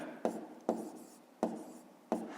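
Pen or chalk writing numbers during a fifth-grade maths lesson, four short scratchy strokes spaced unevenly, quiet and close, with no talk.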